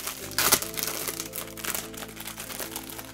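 A plastic bag crinkles as it is opened, with a sharp loud burst of crackling early on, then softer scattered rustles and crinkles continuing close by.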